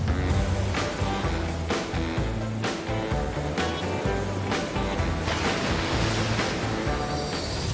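Seawater surges and splashes in repeated, rolling breaks, loud and close, with a constant churning roar and wind buffeting the microphone, no talk heard.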